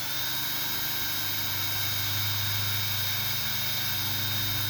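A power drill whirs continuously at a steady, loud pitch while boring holes in a plastic milk jug, a dense mechanical buzz running throughout with no talking.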